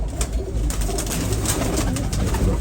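A Shiyakutti goladu pigeon of an old breed, in moult, cooing up close. The soft, rolling coos repeat continuously with no talk over them.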